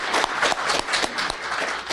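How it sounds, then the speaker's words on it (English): A room full of attendees at a surveying technology conference applauds the presenters, a steady dense wash of clapping lasting throughout without a break. "We need to definitely give these guys, Joel, Nick, and Gary, a round of applause"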